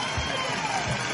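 Street festival audience at a patronal celebration in Las Mercedes, Las Guáranas, giving a dense, steady wash of applause and crowd noise across the whole moment, loud and continuous without pauses.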